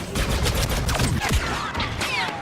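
Gunfire in the video game Star Wars Battlefront II: dense, continuous bursts of shots with whizzing projectiles and explosions, loud throughout with no speech.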